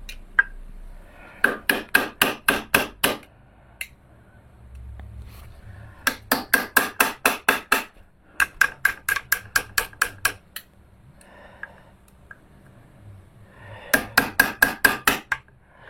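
A hammer strikes metal in quick bursts of about six to eight blows, pausing between rounds, during work replacing the crankshaft seals on a Yamaha 125 TDR motorcycle; close and sharp, with no talk.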